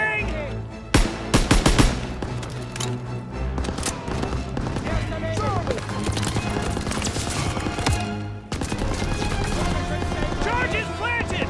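Call of Duty: WWII battle in which machine guns rattle in a dense, rapid fusillade with sharp closer shots and a dip near the end, while soldiers shout over the gunfire.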